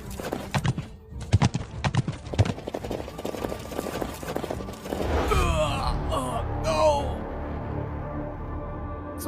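Horse hooves clip-clopping at a quick pace, followed by a loud horse neigh and whinny, in a Chinese period drama scene.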